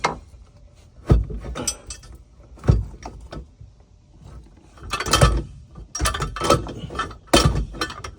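A flathead screwdriver loosens a hose clamp during engine removal on a 1998 Sea-Doo Speedster, giving scattered close metallic clicks, clinks and scraping handling noises in irregular bursts, with no talk.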